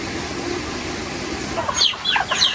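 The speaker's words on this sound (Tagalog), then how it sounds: "Si Bossing po muna ay magpapakain po ng mga alaga po niyang manok at baby" Chickens cluck and squawk in short bursts toward the end, close by, over a steady outdoor background noise.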